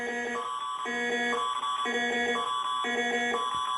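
Ontario's Emergency Alert System alarm blares in a repeating two-tone electronic pattern, with bright, piercing sustained tones alternating in regular cycles, steady and moderately loud with no voices.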